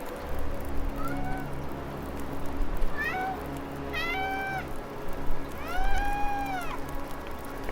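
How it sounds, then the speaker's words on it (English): Several cat meows from a video game set in bleak frozen wilderness, rising and falling calls spaced across a few seconds over a low steady ambient hum, moderately near and clear. "Kitty's here."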